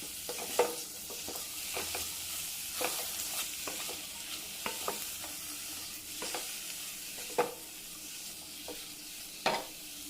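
Chopped onions sizzle gently in a pan for a brinjal curry, stirred repeatedly with a utensil that gives intermittent scraping clicks over a soft, steady fry; no talking.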